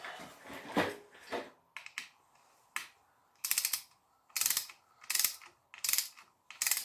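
A torque wrench ratchets and clicks while tightening a transfer case thread plug to 12 foot-pounds on a VW Touareg TDI, repeated sharp close bursts of clicking separated by short pauses.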